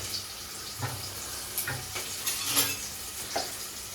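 Onions frying with turmeric and salt, a faint, steady sizzle broken by several light spoon scrapes and clinks against the pan, close by and fairly quiet.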